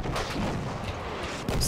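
Distant explosions and heavy gunfire rumble continuously through a Battlefield 1 multiplayer battle, a dense, loud wash of blasts with a sharper burst near the end and no talk over it.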